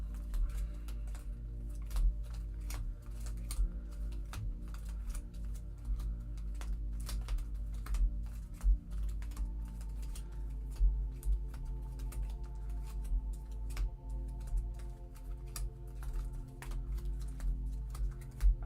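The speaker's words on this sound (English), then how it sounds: "attempted shuffle, which is always interesting with sleeved cards" Sleeved Disney Lorcana trading cards are shuffled by hand, giving a continuous patter of rapid soft clicks and riffling flicks over low room hum, close and steady throughout with no talking.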